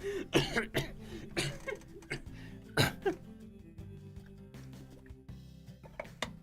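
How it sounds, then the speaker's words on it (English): Repeated coughing and throat-clearing bursts from a nearby voice, several sharp coughs in quick succession at the start, then a pause and another cough cluster, set against a soft background hum. "Cough, cough."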